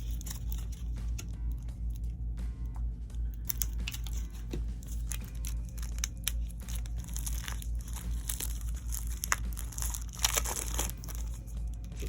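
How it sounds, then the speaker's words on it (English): Plastic wrap crinkles and tears as it is pulled off a bottle of tattoo ink from a rotary tattoo kit, with close, busy rustling and crackling over a steady low hum. "Let's unwrap the ink here as well."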